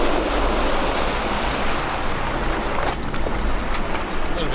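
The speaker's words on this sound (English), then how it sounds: "So got a bit of a mud puddle here, so I'll go second gear, low range." Modified Isuzu MU-X 4WD crawling through a mud puddle in second gear low range, giving a steady close rumble mixed with splashing and sloshing water, loud and continuous throughout.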